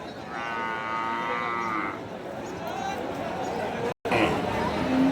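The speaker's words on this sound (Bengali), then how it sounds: "এটাও প্রায় 13-14 মাস এরকম বয়সের একটা সুন্দর একটা লাল টকটকে কালার ষাঁড় গরু" A young red Sahiwal bull lowing at a busy cattle market before Eid, one long moo up close, followed by crowd chatter and talking nearby.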